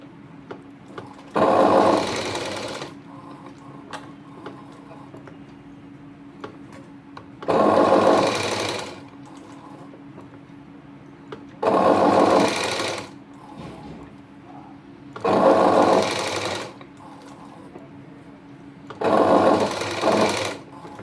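Sewing machine stitching blouse fabric in five loud, close bursts of rapid whirring, each a second or two long, separated by pauses filled with a low steady hum.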